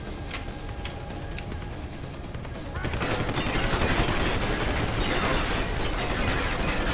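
Sustained blind-fired gunfire in Deus Ex: Human Revolution, a few sharp shots at first, then a dense, loud rattling barrage that continues to the end.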